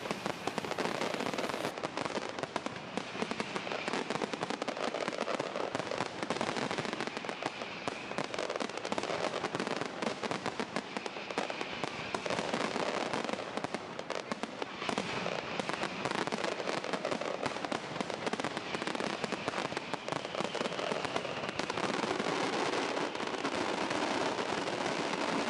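Castillo fireworks display at the Valencia Fallas near the Alameda, a continuous dense crackle and popping of pyrotechnics with rapid bursts, loud and sustained throughout without pause.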